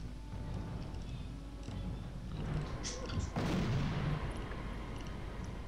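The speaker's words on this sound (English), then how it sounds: "the French have got some good fucking artillery, man, if that's firing that fucking distance" French artillery cannon fire in the strategy video game R.U.S.E: a deep, booming shot lands mid-clip over a low rumbling battle background, with faint scattered gunfire around it.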